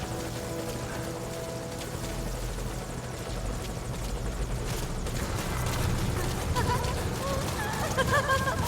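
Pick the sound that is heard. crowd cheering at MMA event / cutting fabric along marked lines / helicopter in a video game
helicopter in a video game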